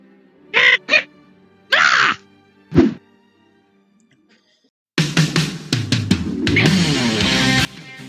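Unused sound effect for Hal, a bird that never appears in the Angry Birds game: a few short squawking bird calls, then a longer burst of honking, quacking cries.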